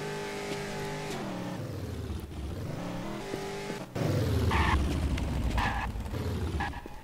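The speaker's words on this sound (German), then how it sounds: "Links höre ich ein Auto, rechts höre ich den Typen." Car in the video game Infestation driving past, engine note rising and falling as it nears and recedes, fairly faint under game ambience.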